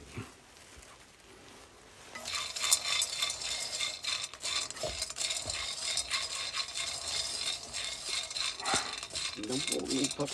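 Small peanuts stir-roasted in a frying pan as an old villager's snack, giving a steady dry rattling, scraping and sizzling that starts quietly and grows louder after a couple of seconds, continuing with some speech-like sounds.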